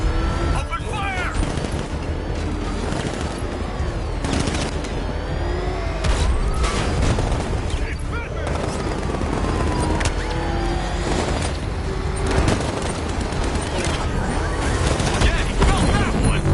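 Batmobile cannon fire in Batman: Arkham Knight, heard as loud, continuous rapid bursts and booms mixed with engine roar and explosions, with a voice speaking over the chaos throughout.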